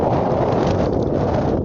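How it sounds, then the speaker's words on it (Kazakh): Light, chilly wind blows across an open snowy village field in the morning, a steady close rush buffeting the microphone with no one speaking. "Ауа райы дегендей суықта емес, азырақ жел ызғар шығып тұр."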